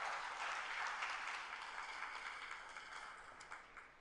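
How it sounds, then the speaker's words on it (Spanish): Church congregation applauding steadily throughout, a dense even wash of clapping at moderate distance that thins slightly toward the end. "Denle un fuerte aplauso a Cristo"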